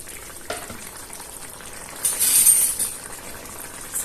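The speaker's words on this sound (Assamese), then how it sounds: "এয়া খুব ধুনীয়াকৈ উতলি আছে" Local chicken curry bubbling under a lid in a pot, a soft steady simmering hiss with a brief louder burst of bubbling and a light clink, no talking.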